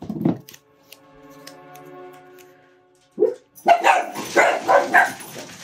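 Dogs bark loudly and excitedly in a burst of close, repeated barks after a quieter stretch of faint engraving-machine noise from a Cricut Maker engraving a butter spreader.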